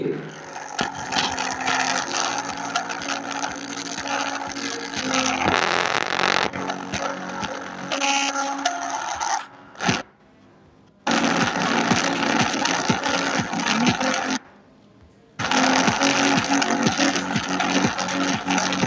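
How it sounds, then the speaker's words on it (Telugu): A song plays through a homemade speaker built from a DC motor, buzzy, rattling, loud and harsh, with a few brief silent breaks before the music resumes. "ఇప్పుడు ఒక ఎన్సిఎస్ సాంగ్ అయితే ప్లే చేద్దాం సౌండ్ ఎలా వస్తుందో మీరే వినండి"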